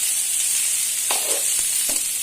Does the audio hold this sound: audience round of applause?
no